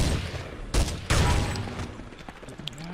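Two sharp, loud gunshot bursts in Counter-Strike 1.6 ring out close together, then fade into a low rumbling game background with faint later clicks.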